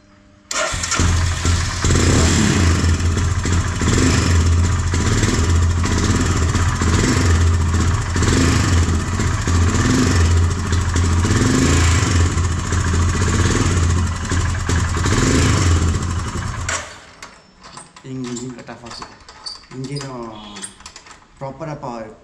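A cold motorcycle engine starved of fuel supply runs loud and close in a steady pulsing idle for about seventeen seconds, then cuts off abruptly, after which someone talks.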